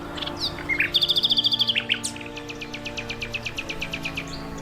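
A nightingale sings a rich, varied phrase: a rapid trill followed by a series of repeated clear notes, over a steady low background hum.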